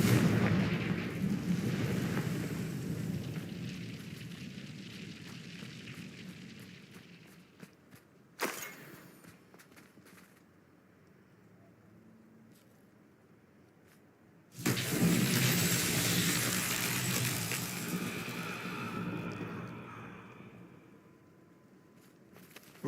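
Fire-spell blasts in the game Hogwarts Legacy boom out in two loud, rumbling bursts separated by a quiet stretch with a single sharp crack, each fading away slowly.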